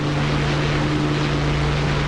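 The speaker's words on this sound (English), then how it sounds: "So that wasn't a bad Jumbo takeoff." Simulated jumbo jet engines roaring steadily during takeoff in a flight simulator game, a dense continuous broadband rumble with a low steady drone, loud and unbroken, no voices.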